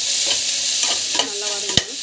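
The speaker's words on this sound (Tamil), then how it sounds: "காஞ்ச பிறகு நம்ம வந்து பார்த்திங்கன்னா ஆனியன் நல்லா வந்து வதக்கிட்டுருங்க" Onions being sautéed in a pan for a home biryani, with steady sizzling and a few scraping stirs of a spatula against the pan, close and fairly loud, no talking.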